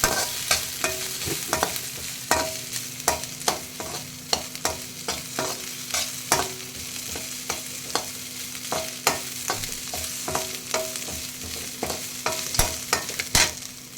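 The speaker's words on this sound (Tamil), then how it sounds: "அதையும் இப்போ போட்டு அதில் லேசாக வதக்கிட்டேன்" Rapid scraping and tapping of a spatula lightly sautéing grated coconut in a hot pan, with a light sizzle underneath, steady and close.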